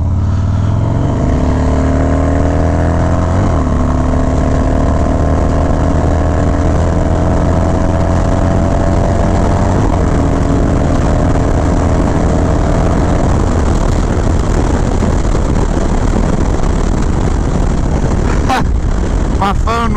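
A Harley-Davidson motorcycle engine runs steadily while riding at dusk, a loud continuous low rumble with rising and falling revs throughout, ending in a few sharp wind buffets near the end.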